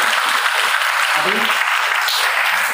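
A college audience at a Swachhta Hi Seva program in Buxar claps loudly and steadily, a dense, continuous burst of applause filling the hall.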